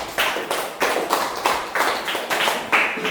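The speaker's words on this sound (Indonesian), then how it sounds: "Tepuk tangan." A classroom group claps in applause during a coding lesson, a series of bursts of many hands clapping together, steady and fairly close, with no talk over it.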